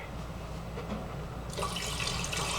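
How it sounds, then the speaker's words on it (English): Tap water runs into a small teapot at a kitchen sink, a steady close rushing that brightens and grows louder about halfway through as the stream strikes the pot. "Just filling up our little teapot with some water"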